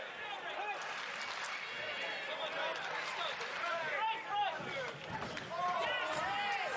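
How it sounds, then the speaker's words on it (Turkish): Spectators at a boxing bout between Erik Skoglund and Ryno Liebenberg keep up a noisy mix of chants and shouts, with whistles rising over the din. A commentator talks throughout on top of the crowd. "Kalkunta tezahüratlar devam ediyor."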